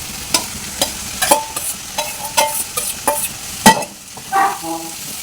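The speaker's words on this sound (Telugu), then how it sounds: "ఉడికించుకున్న చిక్కుడుకాయ ముక్కలు వేసుకోవాలి." Boiled broad bean pieces stirred in a frying pan, a spoon scraping in a steady run of sharp clinks and scrapes over a light sizzle, then a short pause and a final few stirs.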